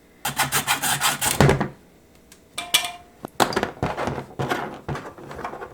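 Rough rhythmic sawing straight across a turkey wing bone, with a rasping back-and-forth texture, pausing briefly before resuming with several more scraping strokes, close by.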